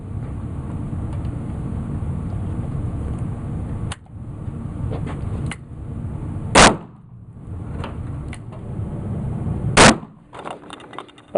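Two loud, sharp shots from a Taurus Judge revolver firing .410 slugs, a few seconds apart, over steady outdoor background noise with a few fainter clicks between them.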